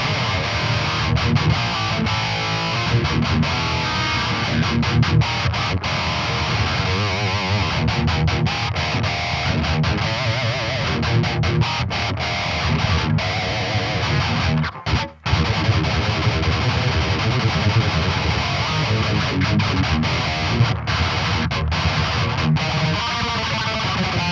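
Heavy distorted guitar from the Wavemind ToneSuite Distant plugin, a nasty chugging metal tone played in tight palm-muted riffs with sharp stops, loud and continuous for over twenty seconds with one brief break midway.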